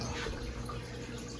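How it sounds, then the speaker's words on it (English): Fingers rinsed of acrylic pour paint under a running tap, a short close wash of water splashing steadily over skin, continuous and moderately loud with no speech. "rinse my fingers off"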